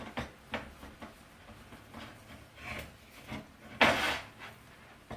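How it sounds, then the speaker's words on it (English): A silicone spatula stirs sugar in a bowl, giving soft, uneven scraping and rubbing strokes at a quiet level, with one louder, rougher scrape near the end. "we're going to mix it together just until the sugar looks like it's wet."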